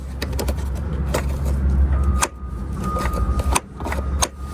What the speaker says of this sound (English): Oh, that opened the gas cap, I think.